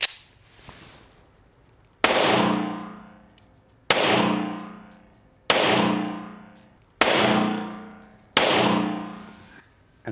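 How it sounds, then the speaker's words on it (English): Five loud, evenly spaced pistol shots from a 1970s Browning Hi Power customized by Novak's, each sharp crack followed by a ringing decay, fired at a target on a range. "we're gonna go ahead and shoot the 1970s done by Novak's"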